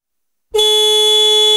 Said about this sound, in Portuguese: Deixa eu pôr a buzina e ver se vocês ouvem.